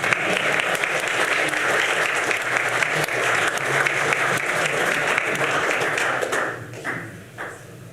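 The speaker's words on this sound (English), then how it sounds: "More applause." Audience applause fills a public works and safety board meeting, a dense steady wash of many hands clapping for about six seconds before tapering off into scattered claps and quiet.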